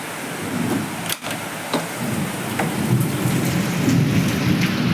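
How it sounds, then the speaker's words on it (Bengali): Steady heavy rain pours down throughout, broken by a sharp thunder crack early on and a few more distant rumbles. "সেই পরিমাণে বৃষ্টি হচ্ছে"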